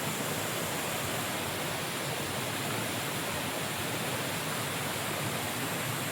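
Monsoon floodwater rushing at a village fishing spot, a dense, continuous roar of moving water that stays steady and loud from start to end, with no other sounds standing out.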